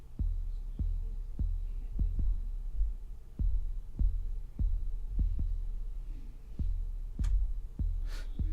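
A TS 808 kick and 808 bass line repeat in a steady, simple pattern of deep, booming thumps at an even tempo, loud and upfront with faint higher tones drifting above.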